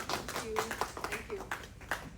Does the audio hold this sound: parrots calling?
no